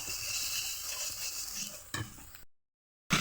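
Potatoes sizzling in oil in a kadai, a steady crackling fry with a scrape of a spoon near the end before a brief cutoff.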